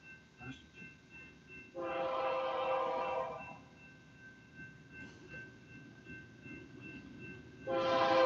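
A BNSF intermodal freight train rumbles past at a trackside spot, its horn blowing in two loud blasts, one early and one at the end, over steady wheel and engine noise.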